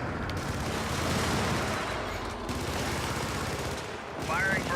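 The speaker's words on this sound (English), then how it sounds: "Firing for effect." Video game gunfire and artillery, a dense rattle of automatic shots and distant booms running continuously, with a voice speaking briefly over the barrage near the end.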